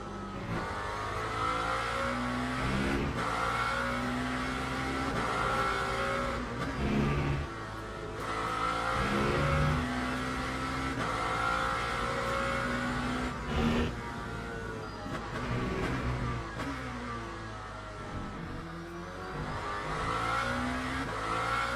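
A Lamborghini race car laps Laguna Seca in Le Mans Ultimate, its engine revving hard and close through rising and falling gear changes, with brief downshifts and occasional tire squeal across a continuous loud run.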